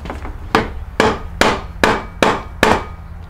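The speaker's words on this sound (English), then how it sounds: "I just hit it with the other end with a rubber mallet" A rubber mallet taps the end of a Jeep Rubicon NP241 transfer case on a workbench: six firm, evenly spaced thuds with short woody decays, close and loud with no voices.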